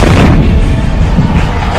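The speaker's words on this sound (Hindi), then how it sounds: "और धमाकों से पूरा पहाड़ गूंजता रहा।" An artillery gun fires shells in the mountains, producing a loud, dense, continuous booming rumble that echoes without a break.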